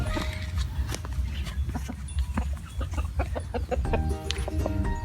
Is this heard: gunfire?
no